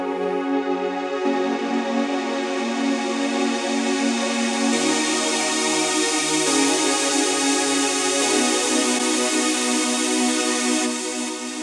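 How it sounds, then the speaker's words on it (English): A sustained synthesizer saw pad rings in a trance track, a bright, dense, buzzy wash holding long chords that change slowly, loud and continuous with no voices. "here, a saw pad."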